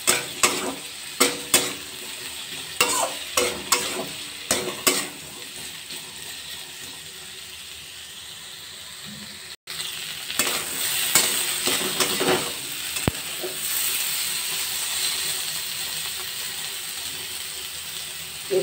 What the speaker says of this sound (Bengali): এবার ভালো করে 2 মিনিট নেড়ে নেব।